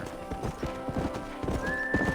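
Steady clip-clop of horse hooves trotting at a brisk rhythm in the video game Red Dead Redemption, with a brief whinny and some background tones, fairly close and clear.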